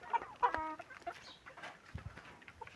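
Chickens and chicks clucking at feeding time, a few short clucks and chirps close by, quiet and sparse in a calm farmyard.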